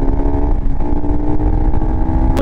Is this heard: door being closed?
no